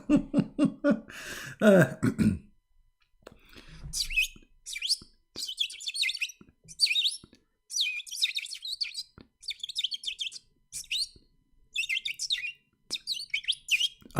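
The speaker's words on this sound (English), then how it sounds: "This is a green bird." A green bird chirps in short, bright bursts repeated steadily for about ten seconds, close and clear, after a brief stretch of low voice-like sound at the start.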